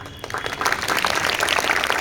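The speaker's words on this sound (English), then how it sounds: "A big round of applause." A crowd at a Children's Day celebration for a visiting KVS deputy commissioner breaks into applause, starting softer and swelling into a steady, fairly loud patter of many hands.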